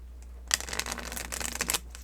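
A tarot deck being handled and shuffled close by, with a quick flurry of papery card riffles and flicks lasting under two seconds in an otherwise quiet room.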